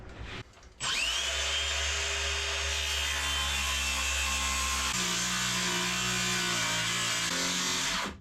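A power tool cuts through wood for a wooden boat's forward head, starting with a brief rattle and then a loud, steady whining buzz that shifts pitch partway through as the blade works the timber, close and uninterrupted.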